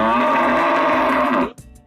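A Limousin crossbred cow gives one loud, close moo, a sustained low bellow lasting about a second and a half before cutting off, with no talk.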